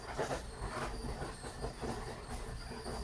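A ball mill runs continuously upstairs, a low rumbling drone with a rhythmic rolling clatter and a faint high whine, fairly quiet and distant.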